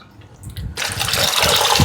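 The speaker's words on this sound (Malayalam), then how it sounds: "കുറച്ച് വെള്ളം കൂടി ആകും" Water gushes and splashes into a cooking dish in a no-fire kitchen preparation, starting abruptly partway through and running steadily loud and close until the end.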